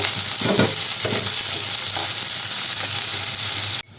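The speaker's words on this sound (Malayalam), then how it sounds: "ഇതെല്ലാം കൂടി ചേർത്ത് നന്നായി ഒന്ന് വഴറ്റി കൊടുക്കാം" Sliced onions sizzle and hiss steadily in a hot pan for tomato rice, with occasional stirring scrapes, loud and close before cutting off abruptly.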